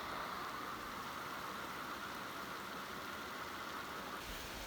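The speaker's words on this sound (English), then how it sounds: "Uh-oh, here comes the rain." Steady rain falling over a wooded lakeside camp on a solo canoe trip near Temagami, a dense continuous hiss from start to finish with no voices.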